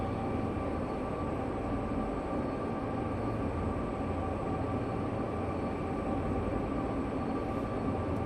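Heavy freight train on Sherman Hill in the Train Sim World 2 video game, a constant loud low rumble and drone of locomotive and rolling cars, steady throughout with no talking.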